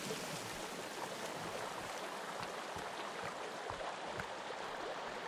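Waterfall rushing in the Sons of the Forest game, a steady broadband water roar close by with faint splashy ticks, no talking.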